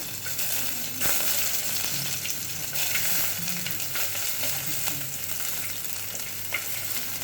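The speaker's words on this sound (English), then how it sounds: "on low heat, I'm going to add my onion" Onion frying in a pot on low heat: a steady, soft sizzle with occasional stirring scrapes, close and continuous with no talking.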